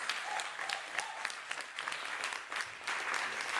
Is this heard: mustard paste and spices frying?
no